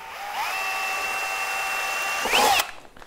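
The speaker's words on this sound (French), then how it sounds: "C'est de l'aluminium, ça se perce très facilement." Power drill bores a 4 mm hole through an aluminium rail while fitting a made-to-measure insect screen, whining steadily at close range for about two seconds, then rising briefly as it breaks through and spins down.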